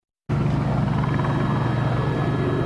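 A news helicopter hovers over a street protest in Allentown, its steady rotor roar starting abruptly and holding loud and even throughout, with no voices.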